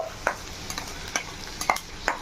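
Ginger-garlic paste fries in a pan while it is stirred. Soft, intermittent scraping strokes land every half second or so over a faint, low sizzle, and no voices are heard.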